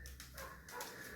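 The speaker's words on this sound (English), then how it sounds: "You can hear my dog barking in the background" A dog barks outside, faint and muffled in the background, with a few soft yaps over a low, steady indoor hum.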